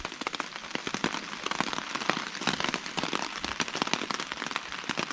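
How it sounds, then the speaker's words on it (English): Steady rain falls at night in the woods along a hiking trail, patters close by with dense, crackling drops tapping on a nearby surface, continuous and fairly loud throughout. "I'm going to sit here and listen to the rain and then nod off to sleep."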